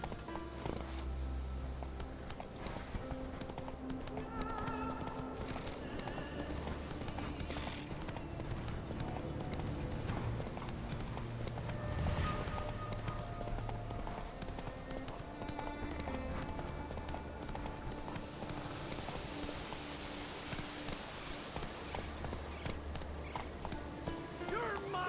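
Horse hooves clip-clop at a steady galloping rhythm in The Witcher 3 video game, continuous over game music and ambience, with voices talking over it at times.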